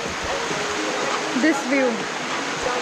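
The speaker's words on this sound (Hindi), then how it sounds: "स्टेयर से जो पानी गिर रहा है ना" Monsoon water pouring down stone stairs on a trek at Korigad Fort, a continuous broad rushing wash under a person speaking.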